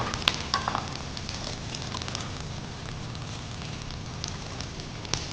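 Peeled shallots sauté in a pan with garlic and green chilli, a dense, steady crackling sizzle heard close up throughout, with a couple of light clinks at the start.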